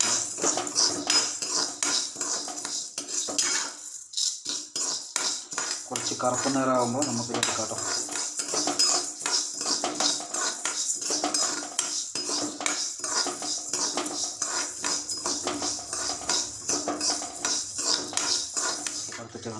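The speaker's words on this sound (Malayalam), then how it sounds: "നമ്മൾ ചീഞ്ചട്ടി വെച്ച് പിന്നെ ഇതൊന്ന് നല്ലോണം വറുത്തെടുക്കണം" Horse gram being dry-roasted in a pan, with a dense, continuous rattle and scrape of stirred seeds against metal, close and steady throughout, and someone speaking briefly partway through.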